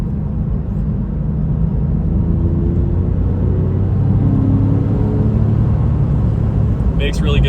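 A 1999 Porsche 911 996 engine drones loudly from inside the car, rising in pitch as it accelerates through the gears, with a steady rumble and road noise and a voice talking over it.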